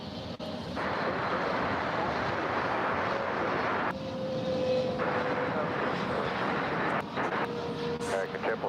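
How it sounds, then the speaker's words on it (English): An American Airlines Boeing 777-300ER arriving at DFW roars as a steady, broad jet rumble throughout, loud and sustained with slight shifts in tone. "American 777-300ER coming in"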